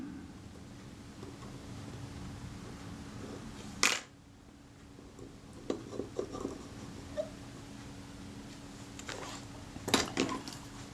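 A gear and screw being fitted by hand into a Reflex III camera body under repair, heard as quiet close-up metallic clicks and small scrapes, with two sharper taps standing out over a faint steady hiss.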